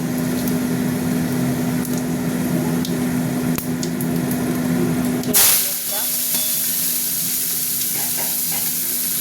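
Chopped onion hits hot oil in a pan, a steady loud sizzle that surges into a sharp hiss at the moment of adding, then settles into quieter frying as someone talks over it.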